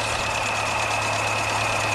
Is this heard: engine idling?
yes